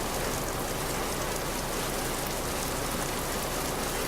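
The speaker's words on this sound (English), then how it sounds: "look at that rain come down." Steady heavy rain pouring down in Euro Truck Simulator 2, a dense uniform hiss with no talk, constant and even throughout.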